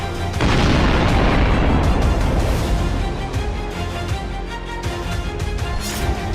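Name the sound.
large bomb explosion in the ocean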